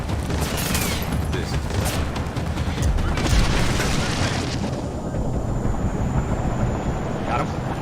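A flashbang grenade goes off in the stealth game Splinter Cell Blacklist, a dense roaring blast with a bright hiss that fades into a long high ringing tone, mixed with game audio and voices.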